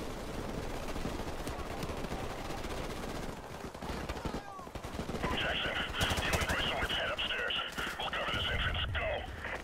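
Rapid gunfire from the Modern Warfare Remastered video game, including shotgun blasts, a dense crackle of shots running continuously, with a voice talking in the mix.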